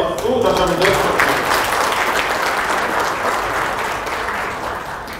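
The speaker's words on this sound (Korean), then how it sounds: "힘찬 응원의 박수 다시 한번 드립니다." A lecture audience claps loudly and steadily, the applause holding strong before gradually easing off.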